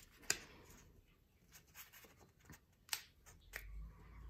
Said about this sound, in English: And then I'm gonna fold it again up from here.